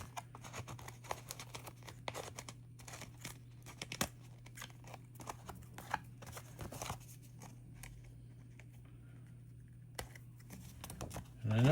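Scissors snip along the edge of a paper postcard in a series of small, crisp, irregular cuts, close and fairly quiet, with a steady low hum underneath.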